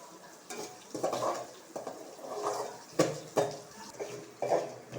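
Onions fry over high heat in a pan for a carrot, drumstick leaf and cabbage poriyal, with soft sizzling under repeated rhythmic scrapes of a spatula against the pan every second or so.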